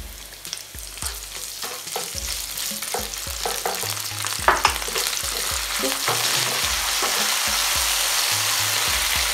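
Anchovies, chili and onion frying in a pan for spaghetti puttanesca, a bright continuous sizzle with repeated clacking stirs of a spoon against the pan, close and growing denser toward the end.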